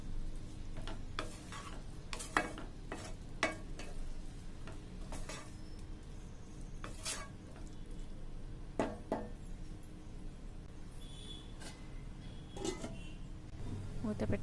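Spoon stirring cauliflower and tomato curry with salt in a metal pan, scraping and clinking strokes repeating irregularly over a soft sizzle, close and moderately loud.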